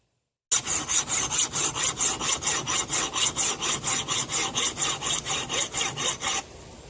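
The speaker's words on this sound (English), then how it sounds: "So I have to take care of that with a file." A metal file rasps rhythmically across the edge of a 2-pound Vaughn camp axe, about twenty quick, even strokes in a row, close and loud, then stopping abruptly.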